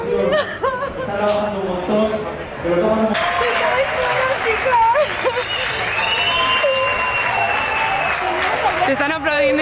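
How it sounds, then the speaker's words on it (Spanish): Crowd applause at a village festival in Spain with a brass charanga band, broad clapping running throughout alongside loud shouting voices and cheering, people talking and calling out over it. "Te están aplaudiendo y todo, Marina."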